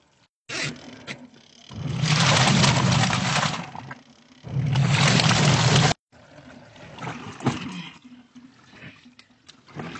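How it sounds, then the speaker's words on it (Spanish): A washing machine fills with fresh water while a large blanket is washed. Two loud gushing bursts of pouring water stop abruptly, with quieter trickling and clatter between and after. "Sacamos y ponemos agua nueva, pero poco."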